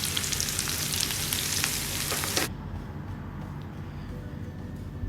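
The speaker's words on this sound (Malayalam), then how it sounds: "ഉലുവ ഒന്ന് പൊട്ടിക്കഴിയുമ്പോൾ അതിലേക്ക് കറിവേപ്പില, അതുപോലെ ഇഞ്ചി പൊടിയായി അരിഞ്ഞത്, അതുപോലെ ചെറിയ ഉള്ളി പൊടിയായി അരിഞ്ഞത്, ഇത് 3ഉം ചേർത്ത് നല്ല ലൈറ്റ് ബ്രൗൺ ആകുന്നത് വരെ ഒന്ന് വഴറ്റിയെടുക്കാം നമുക്ക്" Curry leaves, chopped ginger and shallots with fenugreek seeds fry in hot oil for a Kerala-style dry prawn mango curry, a loud close crackling sizzle that abruptly drops to a quieter, steady hiss halfway through.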